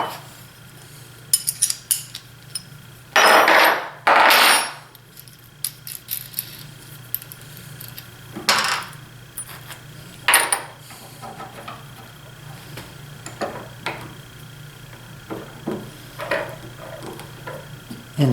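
A small chisel cutting material out of a DIY thumb wheel, heard as a few short, sharp scraping bursts among quiet clinks and handling noises.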